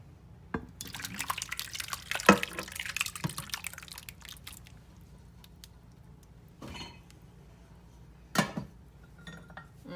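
Cranberry jello pours into an ungreased glass dish, with wet glugging drips and a few light clinks of glass, intermittent and close, under quiet kitchen sounds.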